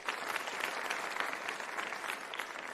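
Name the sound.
audience applauding themselves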